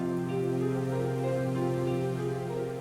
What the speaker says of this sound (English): Is it the idea that rain is landing on the camera?